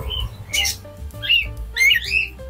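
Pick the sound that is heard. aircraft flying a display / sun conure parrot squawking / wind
sun conure parrot squawking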